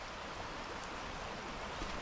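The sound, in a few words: flowing river or creek water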